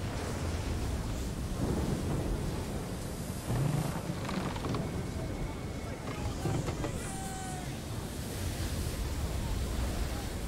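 Storm wind roars steadily through the Assassin's Creed 3 game world, a dense, broadband rush with low thunder-like rumbles and swells, while in-game effects chime faintly over the top.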